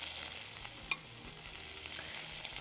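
Meat searing in a hot pan on a home cooking set, giving a steady, faint sizzle with a soft clink partway through and no talking.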